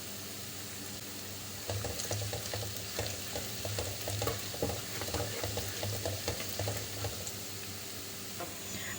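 Cumin seeds and chopped onions sizzle and crackle steadily in hot oil in a pan while being stirred for a tomato chutney, with close, continuous frying and scattered pops and no talking.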